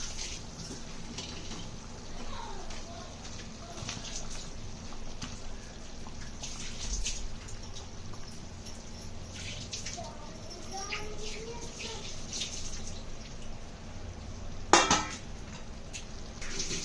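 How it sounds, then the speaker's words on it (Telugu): Fried eggplant pieces go into a boiling masala gravy for stuffed brinjal curry, with a steady bubbling simmer, soft pan clatter and a sharp utensil clink near the end. "బాగా మరుగుతున్న మసాలా సూప్లోకి మనం ముందుగా ఫ్రై చేసి పక్కకు పెట్టుకున్న వంకాయ ముక్కల్ని వేసుకుంటున్నాను"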